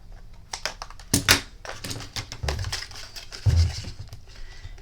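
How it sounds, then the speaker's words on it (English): Red line double-sided tape goes onto a small cardboard box, giving close, busy crinkles, pats and sticky peeling crackles in irregular bursts with no pause. "So I am just putting some red line tape on this."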